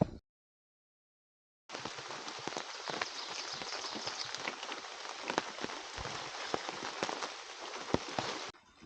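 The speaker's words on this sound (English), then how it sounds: "we'll see what kind of rain we're looking at that time" Rain falling on a tarp at a camp in Bald Eagle State Forest, a dense steady patter with scattered sharper drops, close and continuous after a brief silent gap, no voices.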